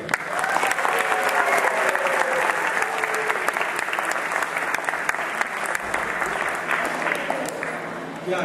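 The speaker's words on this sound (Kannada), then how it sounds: "ಚಪ್ಪಾಳೆ ಹೊಡೆದು ಅವ್ರನ್ನೆಲ್ಲ ಪ್ರೋತ್ಸಾಹಿಸಬೇಕು" Sustained applause from an audience at a Kannada school Ugadi program, dense steady clapping filling the whole stretch at a fairly loud, even level without a break.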